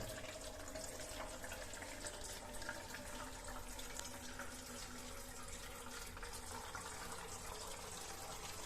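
Tap water runs steadily into an instant mini water geyser, a continuous, even rush of flowing water heard alone at fairly low level throughout.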